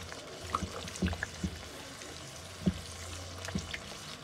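Masala frying in oil for Lahori fish karahi, a soft steady sizzle with scattered small pops and stirring clatters, close and moderately loud.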